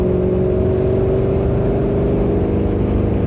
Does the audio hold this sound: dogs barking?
no